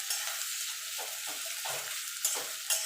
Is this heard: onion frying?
yes